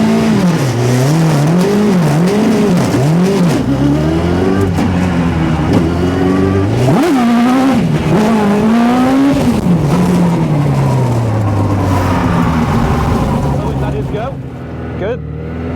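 A Hayabusa-powered buggy accelerates hard on tarmac in a wheelie attempt. The engine screams loud and close, rising and falling through gear changes and revs before easing off at the end.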